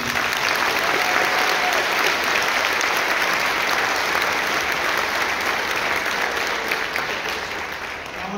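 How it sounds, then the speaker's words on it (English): An audience at a high school winter concert claps steadily and loudly throughout, a dense sustained applause that tapers only slightly near the end. "Let's give them an all round of applause, please."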